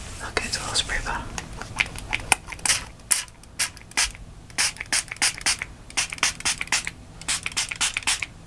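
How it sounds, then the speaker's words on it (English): A small spray bottle mists dye onto a tie-dye bracelet craft, with repeated short hissing spritzes in quick irregular bursts, close and crisp, alongside soft whispered talking. "I'm gonna spray it. Okay, it's a little spray bottle."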